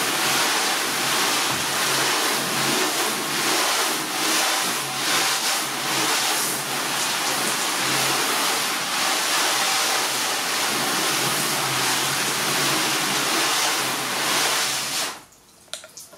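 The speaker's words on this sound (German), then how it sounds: "Und dann spülen wir mal ab." Water spraying hard onto a car to rinse off Wash&Wax shampoo, a loud continuous hiss and splash that runs steadily before cutting off abruptly near the end.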